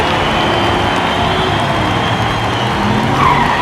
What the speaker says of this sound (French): La Ford effectue un petit 180 avant le dernier virage.